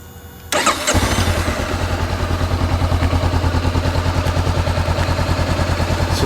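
A 2014 Honda CB500XA motorcycle engine cranks briefly, fires and settles into a steady, even idle, close by with no talking.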